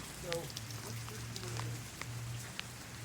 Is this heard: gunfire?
no